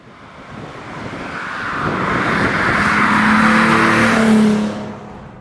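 A BMW M635CSI inline-six engine revs up smoothly, swelling from a low hum to a loud, rising howl before easing off near the end.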